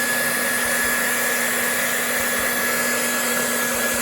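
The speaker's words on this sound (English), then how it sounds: "So when you heat this wrap up," A heat gun blows hot air onto vinyl wrap on a car roof, a loud, steady close-up whine with a constant high-pitched tone that stays unchanged throughout.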